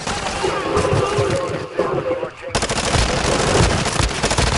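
Rapid automatic gunfire in Call of Duty Warzone, a loud sustained burst of closely spaced shots that briefly drops out and then resumes even more densely, with players talking over it.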